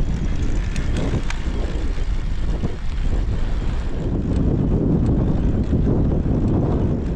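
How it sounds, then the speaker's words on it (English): Strong headwind of about 30 to 35 km/h buffets the microphone while cycling in a Kenyan desert, a loud continuous low roar with gusty swells and no voices. "the forecast says the wind is at about 30 to 35 kilometers per hour"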